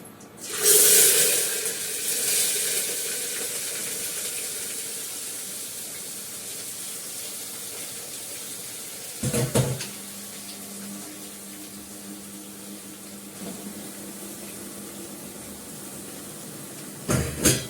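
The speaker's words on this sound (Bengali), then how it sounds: "এর মধ্যে দিয়ে দিলাম জিরে ফোড়ন দিয়ে পেঁপে আর আলু" Papaya and potato tipped into hot oil with cumin tempering, giving a loud burst of sizzle that settles into a steady, close frying hiss, with a couple of clatters of utensils.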